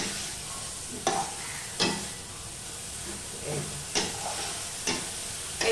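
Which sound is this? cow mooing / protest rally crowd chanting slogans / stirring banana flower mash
stirring banana flower mash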